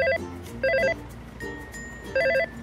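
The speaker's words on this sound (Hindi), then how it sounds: "ये फोन कब से कान खराब कर रहा है" A telephone rings in short double bursts, loud and close, with quiet gaps between rings and faint background hum.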